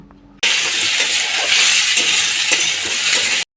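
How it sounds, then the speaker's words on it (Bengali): Sliced cucumber drops into hot spiced oil in a kadai, setting off a sudden loud, close sizzle that holds steady for about three seconds before cutting off abruptly. "কুচনো শশাটা কড়াইয়ের মধ্যে দিয়ে ভালো করে নাড়াচাড়া করে নিয়ে"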